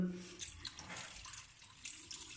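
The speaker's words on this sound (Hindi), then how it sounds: "अब इसको हम अपना पानी लगा देते हैं।" Water is poured by the glass into dal cooking in a pot, a faint, continuous splashing pour with a soft gurgle and no talking.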